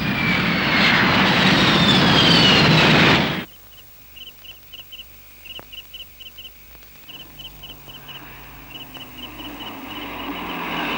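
A fixed-wing airplane roars loudly overhead for about three seconds, then cuts off abruptly to near quiet, leaving faint intermittent chirps.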